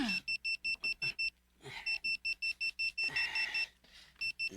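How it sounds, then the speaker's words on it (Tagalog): An alarm clock rings in rapid bursts of repeated high beeps, pausing while nearby voices speak, then resuming. "Nagtingog na ng alarm ni mo, oh."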